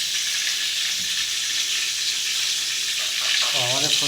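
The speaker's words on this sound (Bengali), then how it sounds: "ও তেল গিয়ে ফুটে যাচ্ছে।" Hot oil bubbling and sizzling in a pan of frying cauliflower for a prawn recipe, a steady close hiss with a faint tonal squeak near the end, no voices.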